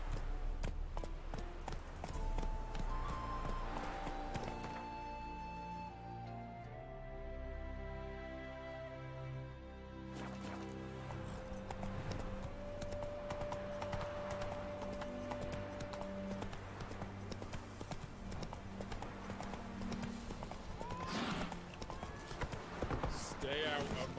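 Game audio of Roach, Geralt's horse in The Witcher 3, clip-clopping along under a swelling orchestral score, hoof beats steady and mid-distance while a voice speaks over the music.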